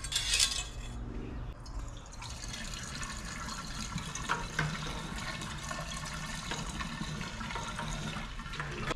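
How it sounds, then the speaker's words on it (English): Diesel is poured down into an engine to flush and clean it out, giving a steady trickling, splashing liquid sound close by, continuous and fairly quiet with faint clinks, no talk. "what I'm gonna do is flush some diesel down the engine and help clean it out"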